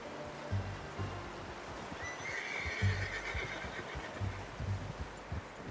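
Horse in the video game Red Dead Redemption 2 lets out a high whinny midway, set against steady clip-clop hoofbeats and a soft outdoor wash, fairly faint and distant, with no talking.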